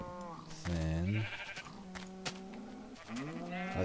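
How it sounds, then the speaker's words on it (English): Sheep in the Minecraft video game bleat in a few wavering calls, close and clear, separated by short pauses. "Baby sheep in the minecart with them?"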